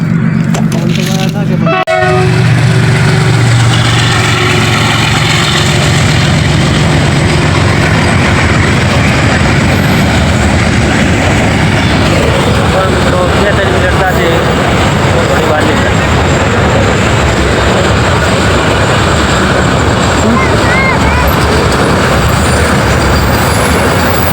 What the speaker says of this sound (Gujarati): ગેટ બંધ થઈ ગયો છે એટલે આ રેલગાડી આવે રહી અને આ પાટણ જાય રહી